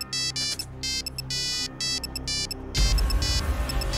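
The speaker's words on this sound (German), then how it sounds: "Nein, Herr Axel Kracher ruft an" An electronic ringtone of an incoming phone call from a teacher, loud and close, chiming in quick repeated bursts before heavier rumbling noise takes over near the end.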